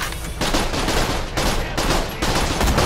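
Bursts of rapid gunfire from Borderlands: The Pre-Sequel fill the clip, loud and continuous with brief gaps between volleys, like video game weapons firing.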